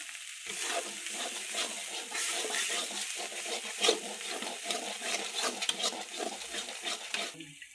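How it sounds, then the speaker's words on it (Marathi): Masala frying in hot oil in a pan, a steady close sizzle with scraping and stirring rustles running through nearly the whole stretch, no voices over it. "भाजू द्या तेलात पडतायचे. मस्त मसाला भाजायचा."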